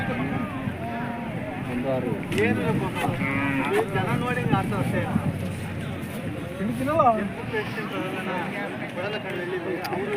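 At the weekly Thursday cattle fair in Gandasi, Hassan district, cows and bulls moo repeatedly amid busy crowd chatter and people talking nearby.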